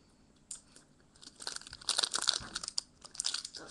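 Scissors snip and crinkle through the plastic wrapping of a Pokéball toy package, a run of close, crisp cutting and crumpling sounds in irregular bursts with no talking.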